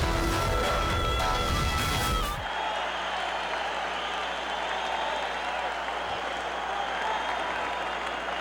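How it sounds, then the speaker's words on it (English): The crowd at a Mike Tyson boxing match cheers and applauds as a dense, continuous roar. It is loud and steady for the whole stretch, with a commentator's voice briefly at the start. "Crowd is very excited."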